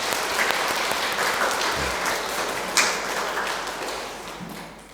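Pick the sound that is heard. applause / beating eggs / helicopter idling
applause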